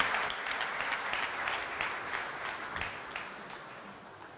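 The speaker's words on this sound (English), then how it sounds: "Please welcome Mr. Aditya Puriji with a huge round of applause." Audience applause at a banking oration welcoming a former HDFC Bank managing director to the stage: a dense, steady wash of many hands clapping in a hall, slowly tapering off toward the end, with no talk over it.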